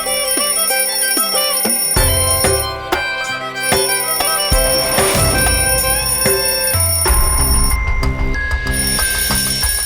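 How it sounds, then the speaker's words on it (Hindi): An alarm clock rings indoors as a loud, repeated electronic chiming that runs for the whole stretch over layered tones and background music, with no voices. "समर तुम्हारा अलार्म बज रहा है"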